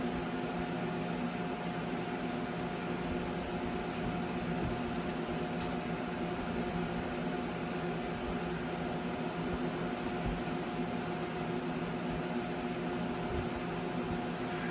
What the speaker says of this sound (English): you can hear my fan whipping at top speed in the background